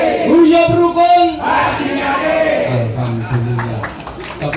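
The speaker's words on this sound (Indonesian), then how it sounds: "Tepuk tangan kagum Pak Joko" Outdoor crowd at an anniversary gathering of an ox-cart community in Bantul, cheering and yelling with scattered clapping. A loud voice on amplified sound calls out over it.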